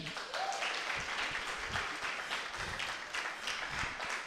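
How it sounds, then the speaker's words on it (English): A festival crowd at an evening welcome ceremony with poetry performances gives a steady round of applause, soft and somewhat distant, clapping evenly throughout. "You can give them a round of applause again."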